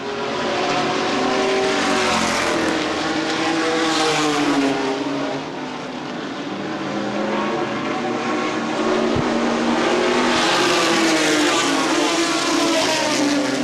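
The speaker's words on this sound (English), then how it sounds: "Danny Jackson hits the loud pedal a little bit harder" ARCA race trucks roar around Winchester Speedway in a 2013 truck series race, a loud, sustained engine drone that swells and fades as the pack passes, with no talk over it.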